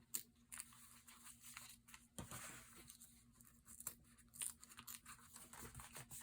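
Thin vellum paper being torn by hand, with quiet, close crinkly rips and small crackles coming in short bursts over faint room noise.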